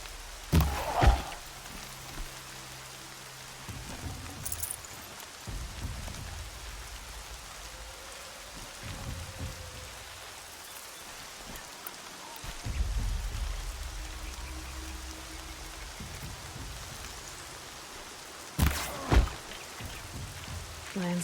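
Steady rain patters across the ground in the open world of Horizon Zero Dawn, a broad even wash running throughout with a few louder thumps and knocks breaking through.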